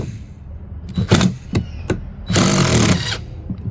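An impact driver drives a pocket hole screw into wood in several short, hard rattling bursts, ending in one longer hammering run, close and loud with no talking.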